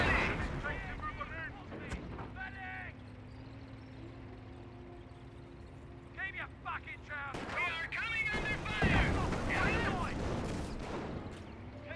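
Mortar and rocket artillery rumble in a Company of Heroes battle, with a steady low drone, scattered booms and a heavy blast near the end, under frequent game radio chatter and a commentator talking.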